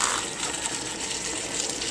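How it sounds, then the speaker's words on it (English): Milk pours into a container for cheese sauce for Cajun chicken pasta, a steady, close liquid gush lasting a couple of seconds with no talking. "I'm going to pour it into maybe just a little bit, just to kind of loosen up the cheese that's in there."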